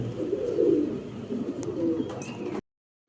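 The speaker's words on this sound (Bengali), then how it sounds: "এগুলা বেবি কবুতর ভাই বেবি কবুতর" Soft, low cooing of baby pigeons, a continuous murmur that stops abruptly near the end.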